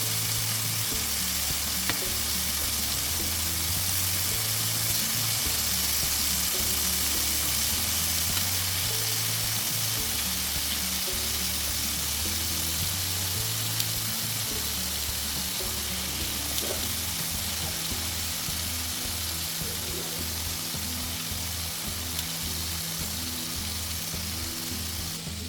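Garlic butter beef bites fry in a pan with a loud, dense, continuous sizzle and crackle that holds steady for nearly half a minute, close up with no talk.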